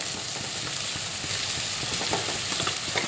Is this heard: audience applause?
no